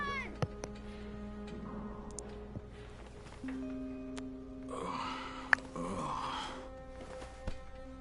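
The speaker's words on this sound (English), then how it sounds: "That scared my cat." A house cat meows a few times at close range amid quiet room sounds, its cries intermittent with gaps of low background hum and faint talk.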